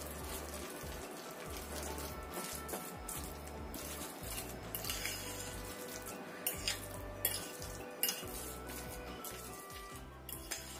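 Indomie noodles and potato being mixed in a bowl, soft continuous squelching and light clinks, close and fairly quiet with a few louder knocks, no speech.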